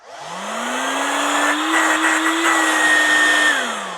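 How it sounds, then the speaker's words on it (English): Small WEVAC vacuum storage sealer pump switched on, a steady loud motor whine that rises briefly in pitch at startup, holds for a few seconds and then winds down slightly at the end; no talking. "Sounds like a little vacuum cleaner."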